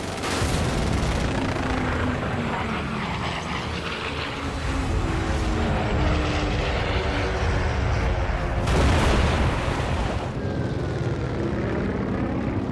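A loud, continuous roar of WWII fighter plane engines with bursts of rear-gunner machine-gun fire, dense and unbroken throughout.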